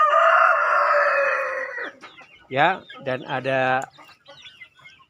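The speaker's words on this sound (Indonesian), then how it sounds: "ini babon muda yang lagi bertelur" Young laying hens in a chicken coop on a small breeding farm: a long, loud crow rings out close by, then a few short clucking calls follow. Someone speaks briefly between them.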